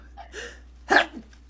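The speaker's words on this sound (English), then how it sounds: "I need to sneeze" A single sharp human sneeze bursts out loud and close, preceded by a few soft breaths and small vocal noises, then a brief trailing exhale.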